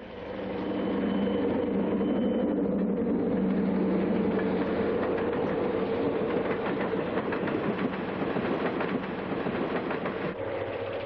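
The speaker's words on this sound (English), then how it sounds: "Santa Fe train number 23, the westbound Grand Canyon, flashes past" Santa Fe passenger train number 23, the westbound Grand Canyon, passes at speed near La Junta, Colorado: a steady loud roar of diesel engine and rolling cars with rhythmic wheel clatter building through the pass.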